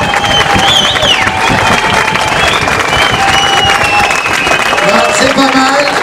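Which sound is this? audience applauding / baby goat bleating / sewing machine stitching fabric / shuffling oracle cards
audience applauding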